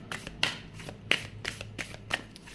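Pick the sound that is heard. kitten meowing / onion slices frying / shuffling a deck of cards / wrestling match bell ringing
shuffling a deck of cards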